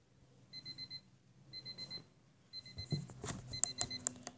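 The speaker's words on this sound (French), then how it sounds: "J'éteignis mon réveil et me rendormis." An alarm clock rings in the video game Kare wa Kanojo, beeping in three regular bursts of rapid tones, then clattering and clicking sounds as it is handled.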